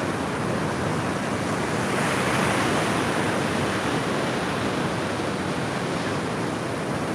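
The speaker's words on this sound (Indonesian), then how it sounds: "Ini tuh pantainya bersih loh di sini." Ocean surf rolling onto a clean beach, a dense continuous wash of water with wind roar, loud and unbroken throughout.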